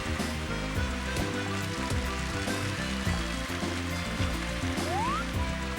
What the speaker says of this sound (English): Huge headwind and rain, so let's put some extra power on this one.